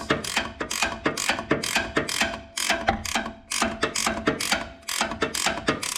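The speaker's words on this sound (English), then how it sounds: "If you've got any of these really long swivel head ratchet wrenches, that's your tool of choice." A long Matco swivel head ratchet wrench turns in rapid bursts of sharp clicking, close and loud, with short gaps between each run of strokes.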